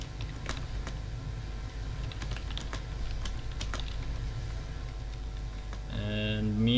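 Quick irregular keystrokes clatter on a computer keyboard while chatting during a StarCraft II game, close and crisp over a low background hum, with a short electronic tone sequence at the end.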